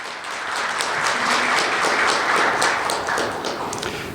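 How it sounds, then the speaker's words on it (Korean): Big applause from an audience at a Korean business CEO forum, greeting a guest speaker being introduced: dense, steady clapping that swells quickly and holds throughout without talk. "큰 박수 부탁드립니다."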